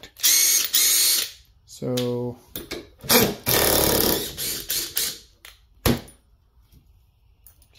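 A Makita cordless impact driver fires in several short, loud bursts of rapid mechanical rattling as it drives screws, separated by pauses, with a brief spoken word in between.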